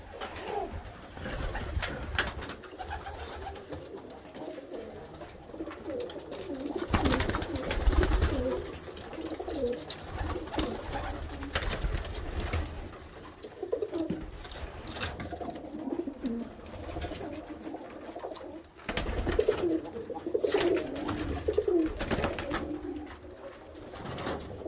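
Roller pigeons cooing at a farm: several birds give low, repeated throaty coos in overlapping waves, close by and fairly loud, with no talk.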